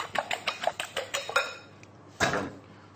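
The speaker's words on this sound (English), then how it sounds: "Whisk up your eggs." Eggs for an omelette are whisked in a bowl, giving a quick run of about eight rhythmic metal-on-bowl clicks, then a single louder clatter after a short pause, close and clear with no talking.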